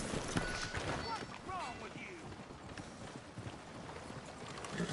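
Horse hooves clip-clop at a trot in Red Dead Redemption 2, a quiet rhythmic patter of hoofbeats mixed with game ambience and other sounds.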